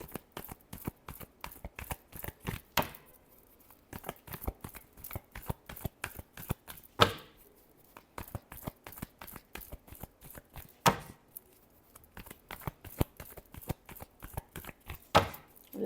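A deck of tarot cards is shuffled over and over, giving a steady run of crisp, close papery flicks and riffles with short pauses between bursts and no voices.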